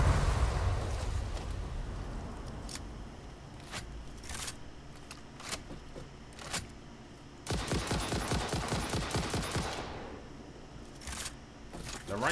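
Rifle shots fired at hatchers in Satisfactory come as sharp, spaced cracks, then a fast volley of repeated shots, among crunchy clicking game noises at moderate volume.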